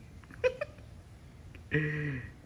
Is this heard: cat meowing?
yes